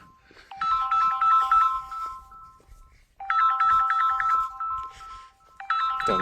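An electronic phone ringtone plays a bright repeating melody in three bursts separated by short pauses, loud and close, with no voices.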